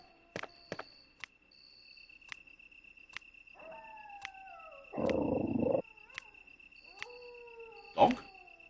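A dog howls in the Resident Evil game as the mansion opens onto the back garden, a few wavering, falling tones over steady insect-like chirping, with a short broadband burst in the middle and one sharp hit near the end.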